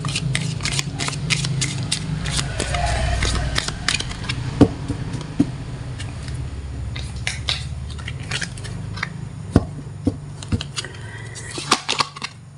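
Tarot cards are shuffled and drawn by hand, with soft riffling at first, then scattered crisp card snaps and taps at irregular intervals, quiet and close.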